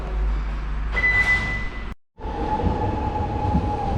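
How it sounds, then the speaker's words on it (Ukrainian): A train rumbles steadily close by with a high, sustained squeal of wheels or brakes, briefly cutting out before the rolling noise resumes. "Ось наш потяг, нам ще чекати його 12 хвилин."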